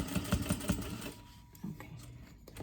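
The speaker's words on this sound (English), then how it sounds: "So on this end, I'm going to back stitch and just baste it down." A domestic sewing machine back stitches and bastes the end of a zip pouch, giving short bursts of rapid mechanical stitching with brief pauses, close and moderately loud.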